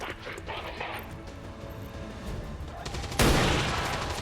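A headshot in the XCOM 2 video game ends in one loud, sharp gunshot near the close, with a sustained crashing tail. Murky background noise comes before it.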